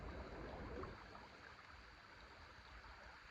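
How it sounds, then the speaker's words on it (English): A river flowing through the woods gives off a steady, soft rushing wash, fairly faint and continuous with no voices. "the sound of this river is really relaxing"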